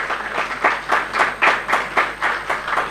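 Audience applause at an award ceremony as a certificate of recognition is handed out, a steady patter of many hands clapping at moderate volume with rhythmic swells, no voices over it.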